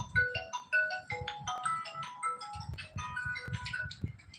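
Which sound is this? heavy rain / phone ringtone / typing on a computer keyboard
phone ringtone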